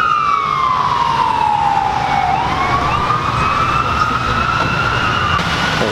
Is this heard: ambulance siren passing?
yes